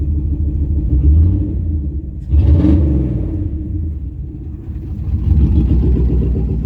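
A 1997 Dodge Ram with an upgraded, oversized cam, its engine loud and close, idling with a lopey rumble, then blipped in a sharp rev that falls back to idle before rising again.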